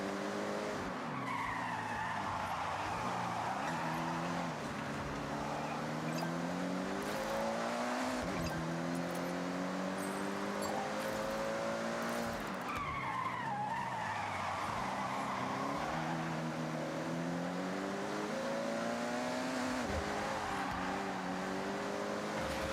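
Toyota 2000 GT racing car in a video game, engine droning steadily with rising and falling pitch through gear changes, tires skidding and squealing loudly throughout, with no talk.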